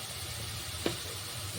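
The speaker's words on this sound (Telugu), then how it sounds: "ఇప్పుడు ఉల్లిపాయ, కరివేపాకు వేసుకున్నాము. కొంచెం గోల్డెన్ కలర్ వచ్చే వరకు ఫ్రై చేద్దామండి." Onion and curry leaves frying in oil in a pan: a soft, steady sizzle with one brief clink of a utensil partway through.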